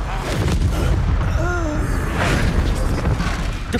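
A Confringo explosive spell blast in Hogwarts Legacy, a loud, dense boom with rumbling low-end and a brief whooshing tail, over continuous game sound.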